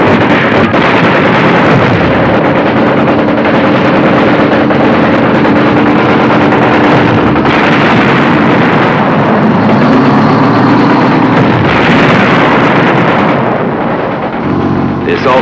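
Continuous heavy rumbling artillery barrage on shore landing areas, deep booms blending into a roaring, wind-like wash, loud and sustained throughout.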